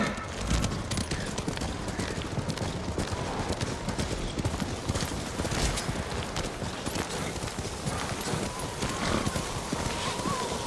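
Horses gallop with rapid, steady clip-clop hoofbeats through a snowy landscape in the Ghost of Tsushima video game, loud and continuous across the whole stretch, with a faint neigh near the end.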